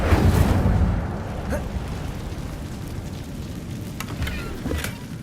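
A fire spell cast in Hogwarts Legacy, a loud whooshing, roaring burst of flame that swells at the start then settles into a sustained crackling rumble with a few sharp pops near the end.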